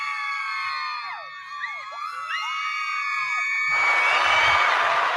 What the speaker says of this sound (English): We'll give them the Woo Girls.